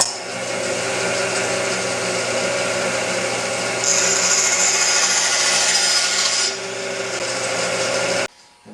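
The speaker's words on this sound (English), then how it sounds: "take it over the bandsaw and cut off the end" A bandsaw blade cuts through the end of a small wooden whistle, a steady whirring drone that rises into a brighter, harsher tone partway through as the blade bites the wood, then drops back and stops abruptly.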